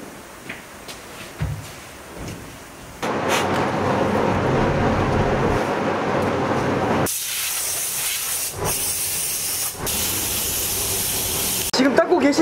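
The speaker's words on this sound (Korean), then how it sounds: "얘는 베이스 전용으로 컬러를 입힐 때 쓰는 건이고요" Spray gun laying down base color paint on a car in a paint shop, a loud steady hiss starting a few seconds in, cutting briefly and resuming with a brighter airy spray, with faint voices early on.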